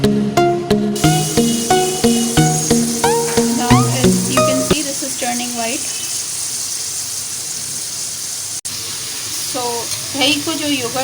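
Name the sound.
chicken frying in a pan for karahi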